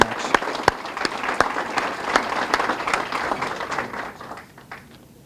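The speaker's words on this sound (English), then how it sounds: "Just to please a round of applause for Tupperware, who has been sponsoring this event." Audience applause at a youth awards evening, a steady round of clapping with a few sharp nearby claps standing out, fading away over the last second.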